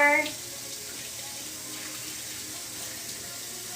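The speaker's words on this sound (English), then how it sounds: "Rinsing, rinsing, rinsing. So use cold water, friends." Cold tap water runs steadily into a sink while tie-dyed fabric is rinsed, a close, even hiss of flowing water lasting the whole stretch.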